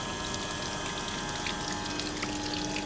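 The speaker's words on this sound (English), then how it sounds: "the water is inflowing in the inflow section and outflowing through the outflow tube" Water flows steadily through a Pitot static tube apparatus in a lab, a continuous close rushing and trickling with a faint steady pump-like hum underneath and no talking.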